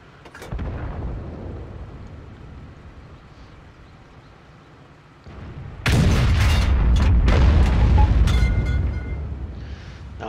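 A heavy SU-152 self-propelled gun fires in World of Tanks, a sudden deep boom near six seconds that stays loud with rumbling battle noise after a quieter lull of distant combat.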